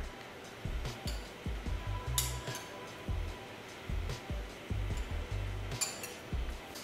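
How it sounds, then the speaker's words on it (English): A spoon stirs berries soaking in grappa, giving a run of quick, light clinks and scrapes against the bowl in irregular bursts, close and fairly quiet, with no talking. "Now we're gonna give this a stir."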